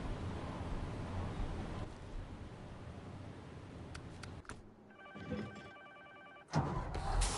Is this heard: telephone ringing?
yes